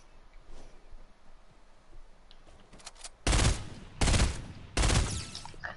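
Automatic weapon fire in the video game Fortnite comes in three loud, close bursts of rapid shots, each about half a second long, separated by short pauses over quiet game ambience.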